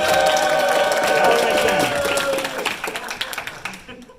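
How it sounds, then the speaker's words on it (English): Applause and clapping from a crowd at a furry convention game show, dense at first and then thinning out to a few scattered claps before fading, with some voices mixed in. "Can we get a round of applause, ladies and gentlemen?"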